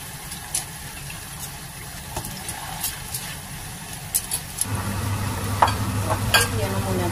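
Potatoes frying in hot oil for chicken curry give a soft steady sizzle. A lower hum and louder crackle build partway through, and light stirring clicks and taps break in with no speech.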